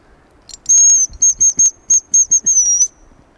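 A hunter's whistle imitates a hazel grouse call: a series of thin, high-pitched whistled notes, a long opening trill followed by short rhythmic peeps, close and clear over a quiet background.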